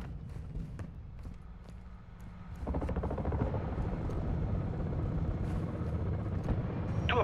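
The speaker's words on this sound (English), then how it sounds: "Friendly chopper gunner servicing targets." A friendly chopper gunner helicopter over Zarqwa Hydroelectric in Call of Duty: Modern Warfare II, a steady rhythmic rotor thump that grows louder partway through, with sharp distant gunfire cracks scattered over it.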